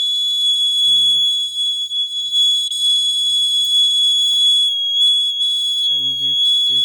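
A homemade laser security alarm's buzzer keeps up a steady, piercing high-pitched tone for the whole stretch, loud and close, with a few brief low thumps or handling sounds near the start and end.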